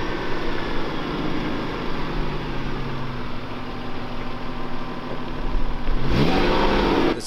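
A 4x4 truck carrying a Chinook camper, about two tons of house, climbs a ledge on a jeep trail, its engine droning loud and close and then revving harder near the end.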